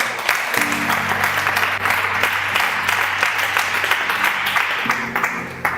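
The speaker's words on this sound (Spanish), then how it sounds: "Denle un aplauso a los dos." Congregation clapping loudly during a church service, a dense, close, sustained round of applause with a low hum underneath and no talking over it.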